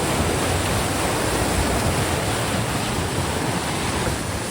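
The flooded Barak River in Senapati rushes past a collapsed bridge in a continuous, loud roar of churning water that fills the whole clip without pause.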